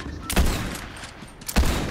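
Video game gunfire during an online match, two sharp close shots about a second apart over a busy background of game noise.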